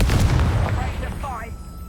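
Bombarda spell blasts in the video game Hogwarts Legacy, a loud rumbling explosion with a dense low-end boom that fades over the second, followed by brief magical whooshing sparkle tones.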